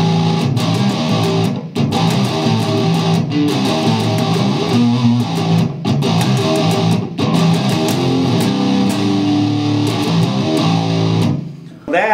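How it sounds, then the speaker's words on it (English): Distorted electric guitar chugging through a verse riff, loud and heavy with brief gaps between phrases, played alone before stopping abruptly near the end. "Goes right into the verse riff"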